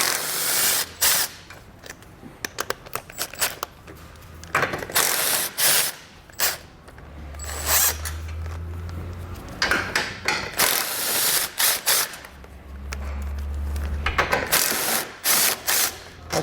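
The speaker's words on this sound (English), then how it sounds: "We're gonna remove them with a 13mm socket." A ratchet wrench with a 13mm socket loosening bumper beam bolts on a 2019 Chevrolet Equinox gives repeated bursts of sharp clicking, close and fairly loud, separated by short pauses.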